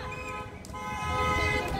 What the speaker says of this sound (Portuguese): Buzina! Buzina! Buzina!